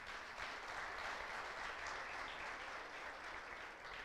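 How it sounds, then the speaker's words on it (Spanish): Church congregation giving a warm round of applause for visiting guests, a steady, even wash of many hands clapping that sounds quiet and somewhat distant, with no voices over it. "¿Qué tal si le damos un fuerte aplauso a las personas que nos visitan?"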